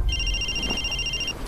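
A telephone rings with a bright, steady electronic tone that holds for over a second before cutting off, heard alone over a low background hum.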